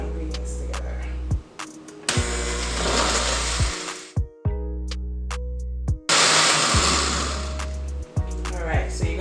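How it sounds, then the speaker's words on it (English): A kitchen blender purees garlic and chili peppers for a spinach stew, its loud motor whirring in two long bursts with brief pauses and a steady low hum between. "I'm gonna cover up the blender and blend our ingredients together"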